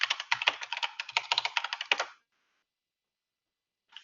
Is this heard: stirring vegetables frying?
no